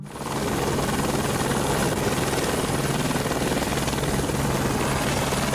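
A helicopter is heard close and loud, its rotor thumping in a steady rapid pulse over a broad engine roar that holds constant throughout, with no voices.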